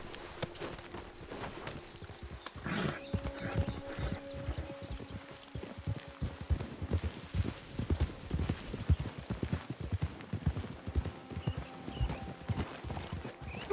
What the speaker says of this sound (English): Get your horses.